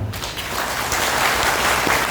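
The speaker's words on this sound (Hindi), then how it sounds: "तो एक बार जोरदार तालियों के साथ बताइए कितने लोग तैयार हैं।" Loud, sustained audience applause fills the hall at a motivational talk, a dense steady wash of clapping with no voices on top.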